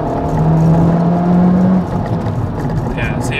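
A 2018 Honda Civic Type R engine downshifts to third gear, a steady engine drone that holds and rises slightly in tone before easing off, heard from inside the car.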